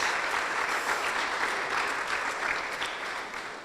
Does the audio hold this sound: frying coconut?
no